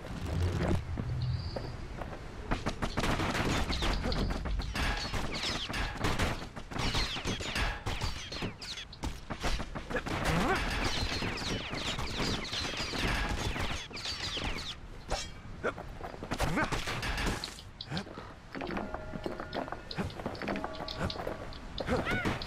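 Enemy gunfire in the video game Bastion, rapid shots and impacts crackling densely throughout amid loud, busy combat effects and music.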